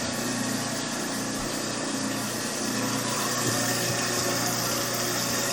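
A steady engine idles close by, running continuously with a constant droning hum and light mechanical vibration throughout, with no talking.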